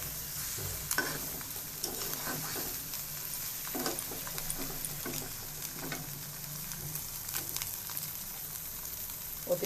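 An egg frying in a pan while it is stirred, a steady soft sizzle with intermittent scraping strokes of a utensil at an irregular rhythm, close by and moderately quiet.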